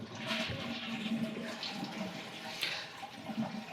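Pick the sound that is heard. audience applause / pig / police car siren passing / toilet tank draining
toilet tank draining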